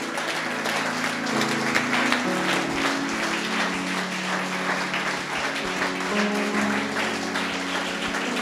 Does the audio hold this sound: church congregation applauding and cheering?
yes